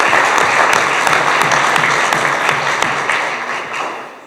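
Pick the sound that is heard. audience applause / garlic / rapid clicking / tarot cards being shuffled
audience applause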